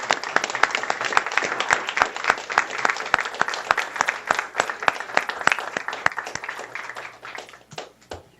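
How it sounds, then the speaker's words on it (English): Audience applause at a school board meeting, steady clapping from a room of people holding for about eight seconds, with sharp individual claps standing out before it thins and tapers at the end. "If you would join me in a round of applause for our kiddos and our family."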